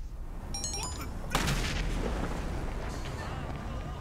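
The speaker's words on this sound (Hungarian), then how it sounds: "Berobbantja a kocsit." A car blows up in GTA Online with a sudden loud boom that fades into a long rumbling roar, preceded by brief electronic tones and accompanied by excited talk.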